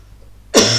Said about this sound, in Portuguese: Eu vou tossir de novo,